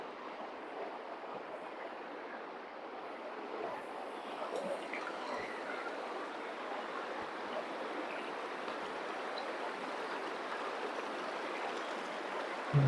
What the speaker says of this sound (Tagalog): Ilog.